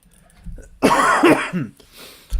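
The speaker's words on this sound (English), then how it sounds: "Cough. Feels like it's coming back with a vengeance recently." A single harsh cough bursts out close to the mic, followed by a softer trailing breath and a brief low thump at the end.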